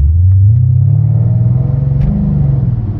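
V8 car engine with a deep, steady exhaust growl, loud and close, rumbling continuously with a slight rise in revs throughout.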